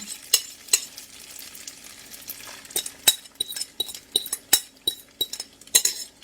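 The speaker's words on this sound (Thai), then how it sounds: "ทีนี้ก็คนเร็วๆค่ะ เดี๋ยวไข่มันจะสุกนะคะ" Spaghetti carbonara is stirred fast in a pan with an egg and whipping-cream sauce. Metal utensils clink and scrape in a quickening run of sharp ticks over a soft, steady sizzle.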